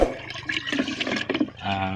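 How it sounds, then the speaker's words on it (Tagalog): Water is poured into a garden sprinkler on a Philippine farm, giving a short, close splashing pour with sloshing that lasts about two seconds. "ibalik ko naman sa ating sprinkler yung ating tubig"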